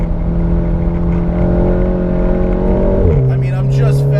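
A 400 HP RevoTechnik Stage 3 VW Mk7 GTI engine pulls hard on a track, its loud, close drone climbing steadily in pitch before a quick drop at the gear change, then rising again.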